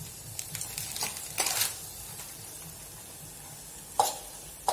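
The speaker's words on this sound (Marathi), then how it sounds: "अजून मसाला तयार झालेला नाही त्यामुळे ह्याला थोडेसे परतत राहायचे" Masala spice mix for farsan amti sizzles quietly in a pan, stirred with soft scraping strokes and occasional louder clinks against the metal.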